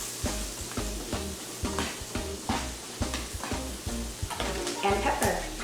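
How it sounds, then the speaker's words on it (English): Onions and garlic fry in melted butter with salt for loco moco, close sizzling broken by a regular rhythm of spoon or spatula strokes against the pan, with no talking. "So once your butter melts, you want to add some onions."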